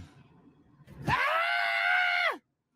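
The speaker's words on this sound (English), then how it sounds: "Why does he always start screaming?" A man screams in a reacting-to-legal-footage clip, one sustained, loud, strained yell lasting over a second, starting abruptly after faint background noise and cutting off sharply.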